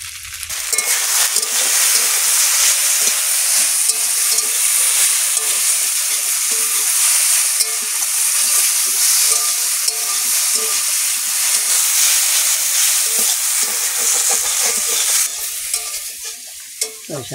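Potatoes and lentils frying in a hot pan with salt, a loud continuous sizzle and hiss with stirring scrapes, fading at the end as the frying eases.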